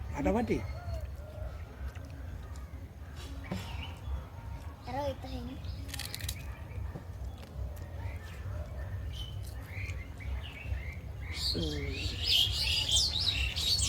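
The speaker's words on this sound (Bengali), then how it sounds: "পাখি ডাকছে" Birds chirp and tweet outdoors under an open sky during a Saraswati Puja lunch, with scattered short calls near and far and a busier burst of chirping toward the end. People talk intermittently underneath.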